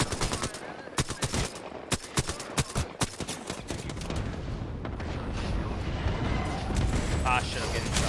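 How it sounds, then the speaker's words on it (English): Gunfire in the Apex Legends video game: a rapid series of sharp, close shots rings out in the first half, then gives way to a dense, continuous rumble of combat noise with voices talking. "Ah, shit, I'm getting shot."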